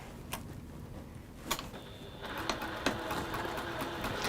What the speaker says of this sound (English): shall we carry on sewing, Gemma, before I get carried away?